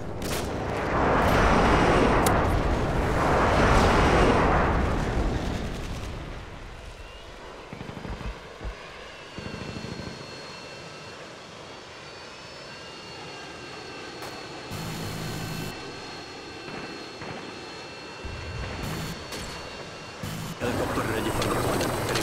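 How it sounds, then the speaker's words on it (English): Modern Warfare 2 video game sound: a Harrier airstrike brings heavy explosive rumbles at the start, then jet engine whine and distant booms, with game voice lines over it. "Friendly Harriers inbound."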